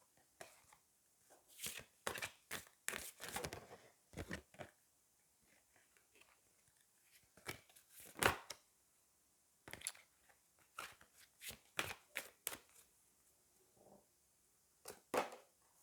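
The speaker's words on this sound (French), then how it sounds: "on va prendre une carte des anges" Angel oracle cards are drawn and shuffled in bursts of quick, soft flicking and riffling clicks, separated by short quiet pauses; no voices.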